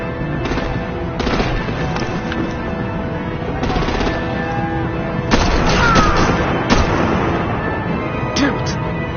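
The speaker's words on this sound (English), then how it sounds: "Break out the artillery and disable their vehicles!" Artillery fire aimed at vehicles in a Batman video game, heard as repeated loud blasts and bursts of gunfire over a dense, busy battle din, with voices talking underneath.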